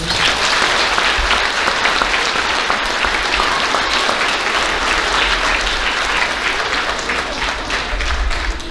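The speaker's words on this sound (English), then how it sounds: "You can go ahead and applaud for those fifth graders." During an elementary school awards ceremony, an audience applauds fifth-grade student officers with a long, steady burst of clapping from many hands, moderately loud and even throughout.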